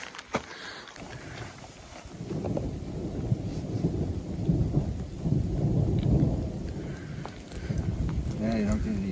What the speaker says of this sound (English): We're making our way down there in the thunder and lightning and rain.